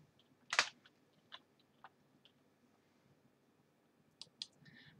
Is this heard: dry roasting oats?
no